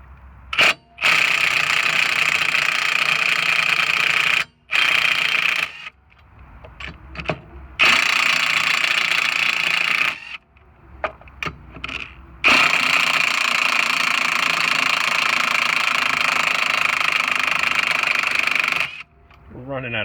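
Cordless impact wrench removing lug nuts from the rear wheel of a 2000s Honda Civic, loud repeated bursts of hammering and whirring separated by short pauses, close by.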